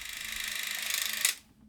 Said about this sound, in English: we have a trigger release cable tied to the shutter of the camera